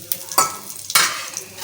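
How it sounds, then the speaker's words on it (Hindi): Tadka tempering for masoor dal sizzles and crackles in a hot pan, with a couple of sharp bursts of frying and clinks of a spoon stirring, close and fairly loud. "ये जी तड़का रेडी है।"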